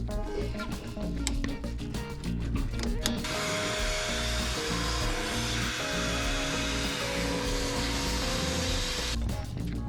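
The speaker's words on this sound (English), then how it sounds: "That is a job that is infinitely easier doing it with the vacuum like that" A vacuum roars steadily as it sucks water from a sailboat engine's raw-water pump during an impeller check, a loud continuous whoosh after a few seconds of clattering handling.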